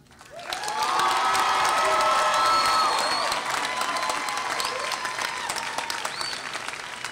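A graduation audience at a Columbia Southern University ceremony breaks into loud, sustained applause with cheers and whoops, swelling quickly and then tapering slightly while continuing throughout.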